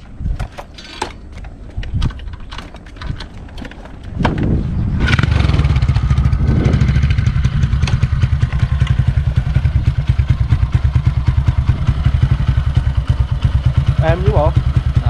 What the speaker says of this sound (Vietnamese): Em nổ máy anh nghe thử coi.